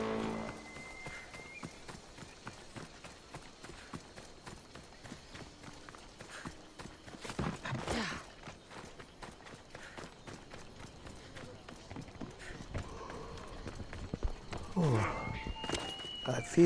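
A horse gallops in Assassin's Creed Odyssey, rapid rhythmic hoofbeats running continuously at a fairly quiet level, with a few brief louder bursts.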